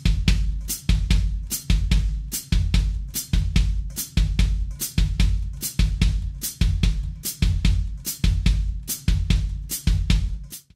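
A drum kit plays a bass drum and foot-pedal hi-hat pattern, alternating low thumps with crisp hi-hat chicks in a steady, even loop that repeats the whole way through, close and loud, with no talking.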